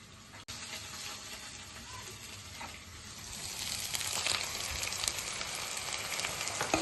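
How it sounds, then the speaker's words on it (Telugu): Blended tomato paste cooking in oil with ginger garlic paste for aloo methi curry, a soft, even sizzle that grows slightly louder in the second half, with no speech. "టమాటా పేస్ట్ కూడా వేసుకొని ఇలాగా మగ్గనివ్వాలి."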